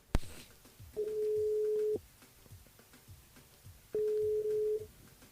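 A phone line rings out twice during a live radio show calling a listener, each ring a steady electronic tone about a second long, separated by a pause, following a sharp click at the start.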